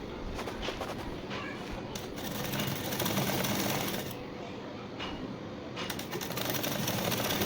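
A sewing machine stitches an Aari work blouse sleeve, running in a steady rapid mechanical clatter that speeds and slows in bursts, close and fairly loud with no talking.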